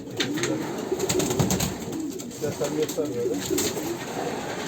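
Racing pigeons coo softly amid a busy, noisy background with some faint voices, the low murmuring calls repeating throughout.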